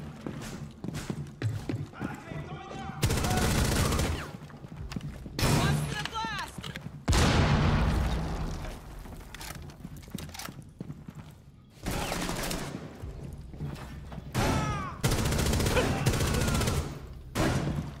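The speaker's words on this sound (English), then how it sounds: "We just rushed in there with the Thatcher shotgun" Shotgun fire in the Rainbow Six Siege video game comes as loud, repeated blasts and bursts in several dense stretches, with players talking in between.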